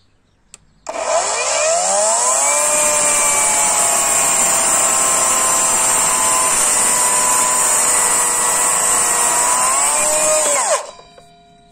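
A Parkside Performance cordless mitre saw runs with its dust bag removed, giving one loud, steady high-pitched whine for about ten seconds that starts abruptly and then spins down, with no talking over it.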